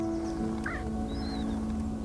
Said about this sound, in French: On entend juste les oiseaux chanter